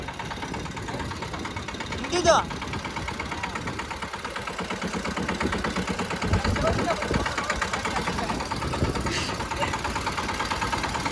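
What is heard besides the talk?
tractor engine running as clutch is released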